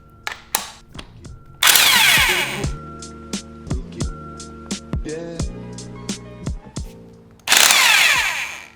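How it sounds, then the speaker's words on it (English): Bursts of a power drill or driver whir loudly and alone during a kinetic R3 sculpture build, two long runs at the start and end with short taps and clicks of parts between. "we're breaking out the power tools"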